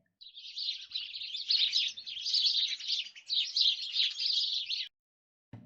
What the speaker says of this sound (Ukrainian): Добре, це горобець.